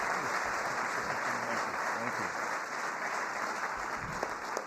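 An audience at a White House social media summit applauds steadily, a dense, even wash of clapping that holds at the same level for the whole stretch with no voices over it.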